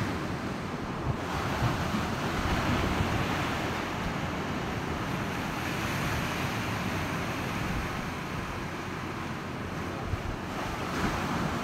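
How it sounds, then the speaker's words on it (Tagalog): Loud ocean surf roars continuously as big waves break and wash in at Parula beach, Davao Oriental, Philippines, with heavy wind buffeting the microphone throughout. "malaking alon dito mga kabayan"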